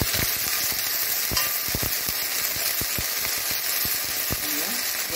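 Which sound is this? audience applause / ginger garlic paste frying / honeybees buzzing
ginger garlic paste frying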